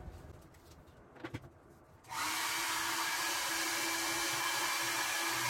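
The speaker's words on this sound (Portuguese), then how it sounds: "agora eu vou secar com o secador pra gente fazer o renova plástico" A hair dryer switches on abruptly and runs with a loud, steady whoosh while drying a plastic part of a Polyvox TD1000 tape deck mechanism during restoration, preceded by a few quiet handling taps.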